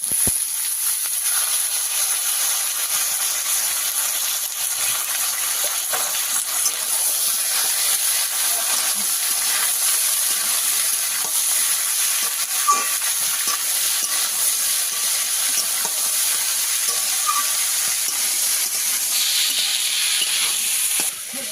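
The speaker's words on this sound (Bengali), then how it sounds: "ফোড়নে দিয়ে দেবো কালো জিরে, কাঁচা লঙ্কা, দিয়ে দেবো কুচি আর আলু" Nigella seeds, green chilli and chopped potatoes frying in hot oil produce a steady, bright, continuous hiss, close and even throughout, with faint occasional pops and no talking.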